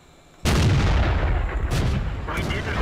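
A tank cannon fires in World of Tanks, a sudden loud boom that rolls into a long rumbling decay, with a fainter second shot near the end.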